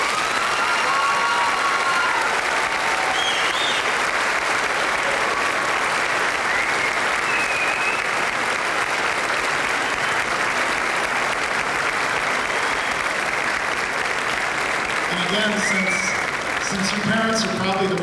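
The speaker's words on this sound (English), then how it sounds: "Will you please give them a round of applause?" Steady applause from a concert audience for a high school honors band at a 1997 spring concert, a dense, even wash of clapping with a few faint voices and whistles mixed in.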